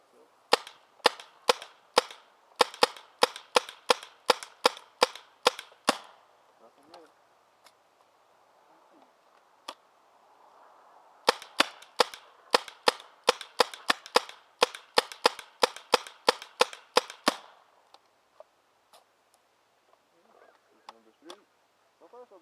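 A paintball marker fires Inka Copper paintballs outdoors in two rapid volleys of sharp cracks, each a fast string of evenly spaced shots, separated by a quieter pause.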